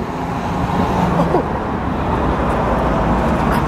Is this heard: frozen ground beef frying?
no